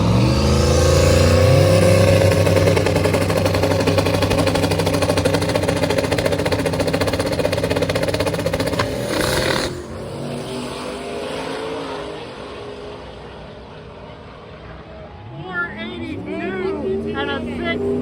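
Two drag racers, a Mustang and the Pizza Planet truck, launch at a Miles of Mayhem event. Loud engine roar dominates at first, then fades as they pull away down the strip, leaving a distant drone, with crowd noise and talk mixed underneath.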